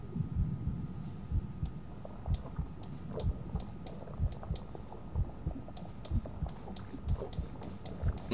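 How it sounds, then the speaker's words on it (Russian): Soft, steady thumping pulse, like a heartbeat, in a crowd simulator video game, repeating in a regular rhythm with faint clicks on top and no talking. "Но это типа сердце пульса слышно"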